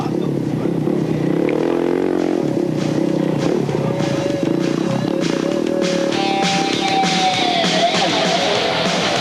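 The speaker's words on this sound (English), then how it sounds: "Richard Sykes on the number 5 KTM starting in third place overall" KTM rally motorcycles at the start of the 1998 Dakar Rally, engines droning and revving steadily under a busy, loud crowd-like background, with a rising pitch toward the end.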